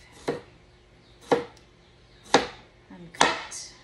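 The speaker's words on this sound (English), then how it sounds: "cut little pieces and some really skinny ones" Four sharp knife chops cut vegetables into small pieces, spaced about a second apart, crisp and close with little else around them.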